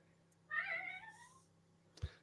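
A child imitates a cat's meow to call a cat: one drawn-out, rising-falling meow-like cry in a quiet room, followed by a brief soft knock.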